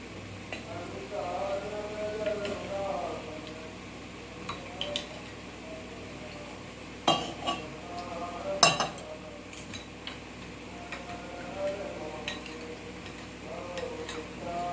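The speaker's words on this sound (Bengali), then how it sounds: "সেটাকে জল দিয়ে ভালো করে মিশ্রণ তৈরি করে নিয়ে একটা পেস্ট তৈরি করে নিতে হবে" A spoon stirs cornflour and water into a paste in a small bowl, making faint clinks and taps that come irregularly, with a couple of sharper knocks midway over quiet room noise.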